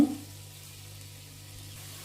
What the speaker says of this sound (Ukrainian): Жарю її до світло-золотистого кольору.